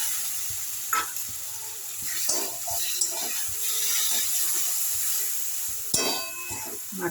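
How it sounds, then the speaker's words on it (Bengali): Spiced water hits potatoes cooking in a pot for a vegetarian ghugni, giving a soft sizzle and steamy hiss with scattered clinks and stirring knocks, moderately quiet. "এই মশলার জলটা একটু দিয়ে দিলাম"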